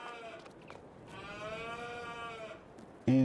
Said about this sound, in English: Oh, geez, there's cows in here.